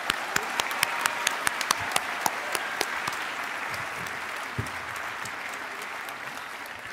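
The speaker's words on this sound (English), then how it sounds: "Let's give a big round of applause to all our family and friends who support us along the way." A graduation ceremony audience claps together, sharp individual claps at first blending into a sustained wash of applause that gradually fades.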